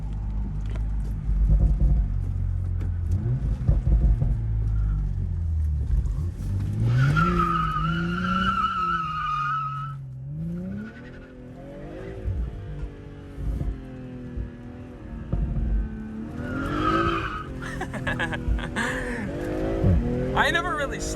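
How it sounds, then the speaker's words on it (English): A BMW M340i slides through wet corners in the rain, its engine droning and rising in pitch with bursts of tire noise and rumble, while a driver talks nearby over much of it. "I ain't never really slid this car before."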